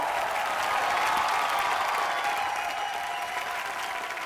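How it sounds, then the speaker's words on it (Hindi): Loud, dense applause from a studio audience at a comedy show, sustained steadily throughout with only a slight fade toward the end. "जोरदार तालियां सर"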